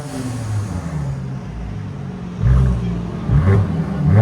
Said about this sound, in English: You can hear the blow-off valve.